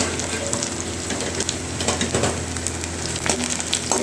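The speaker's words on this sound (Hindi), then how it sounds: "तो हींग डाल देना है।" Asafoetida frying in hot oil for sambar gives a steady close sizzle with light crackles and faint stirring scrapes, with no talking over it.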